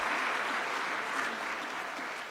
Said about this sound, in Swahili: Tuongeze tena makofi kwa msajili wa hazina.